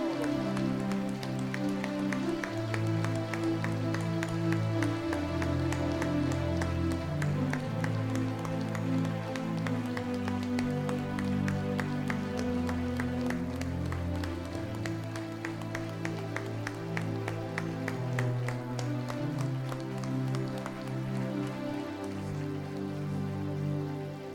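A church congregation claps in steady rhythm over sustained singing and music, the dense patter of many hands continuing evenly throughout.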